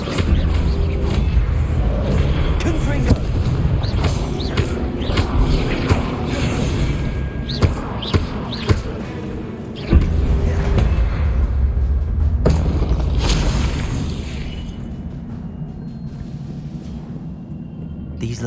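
A Confringo blasting spell goes off in Hogwarts Legacy during a trial, with dense, loud booming and rumbling combat noise and a few sharp bursts throughout, fading somewhat toward the end.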